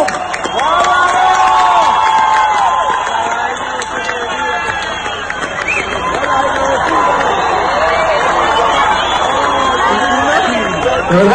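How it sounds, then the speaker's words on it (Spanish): A live concert crowd cheers and claps loudly and continuously, with excited chatter mixed into the roar as a Gibson guitar is handed to a fan. "¡Un aplauso!"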